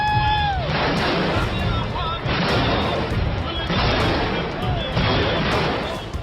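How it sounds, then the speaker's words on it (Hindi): Rockets fired by Hezbollah fighters at Israeli army watchtowers and military posts on the border, heard as a continuous loud roar of launches and blasts with repeated surges, under a news voice. "हिजबुल्लाह के लड़ाके इजरायली सेना के वॉच टावर पर लगातार रॉकेट दाग रहे हैं।"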